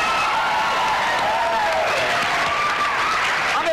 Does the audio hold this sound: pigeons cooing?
no